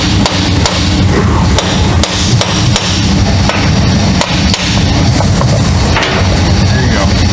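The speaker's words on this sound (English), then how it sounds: "Now we're just gonna tap with a hammer and it'll pop down." A hammer repeatedly taps a driveshaft safety loop down on a vehicle, giving loud, sharp, irregular metallic strikes over a steady, rumbling background din.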